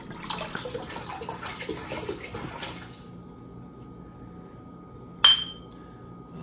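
Bottle caps for a one-gallon homebrew beer batch rattle and clink as they are pulled from a container, a few light metallic taps over a few seconds, then a quiet pause and one sharp clink.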